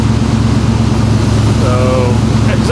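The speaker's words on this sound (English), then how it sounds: "So, exhaust sounds a little loud," A Chevy Express van with a misfire problem and a failed catalytic converter idles with a loud exhaust, making a steady, close, unbroken rumbling drone throughout.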